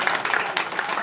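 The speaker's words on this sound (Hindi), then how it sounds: "थोड़ा ताली मार के ऐसी राधे राधे।" A group of devotees on a Vrindavan pilgrimage claps together in a brief, dense burst of applause with voices mixed in.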